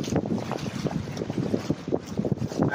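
Wind gusts buffet the microphone while sitting on the bow of a boat cruising the Norfolk Broads, a continuous rough rumble with rising and falling blasts and no voices.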